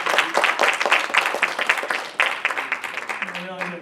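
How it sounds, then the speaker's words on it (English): Conference crowd after a panel session gives a short burst of sustained clapping that tapers off, with a voice starting up as it dies down. "Let's give them a big round of applause."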